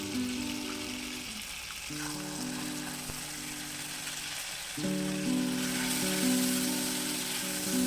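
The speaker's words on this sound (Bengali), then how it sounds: "এখন বেটে রাখা মশলাটি আমরা দিয়ে দেবো" Ground spice paste hitting hot oil for a fish-free rasgulla korma, a continuous moderate sizzle and crackle with a steady tonal hum running underneath, swelling slightly louder in the second half.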